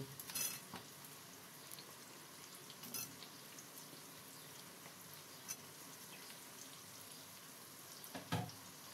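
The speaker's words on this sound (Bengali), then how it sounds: "এইভাবে এইগুলোকে একটু আমি ভেজে নেব।" Chilli chicken pieces frying in a pan, a faint continuous sizzle punctuated by a few sharp utensil clicks and taps, quiet and without talk.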